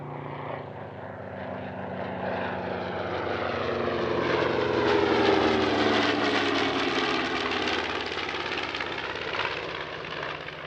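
A B-25 bomber flies past at an airshow, its piston engines and propellers building into a loud, steady drone whose pitch bends as it passes, then easing slightly while staying strong.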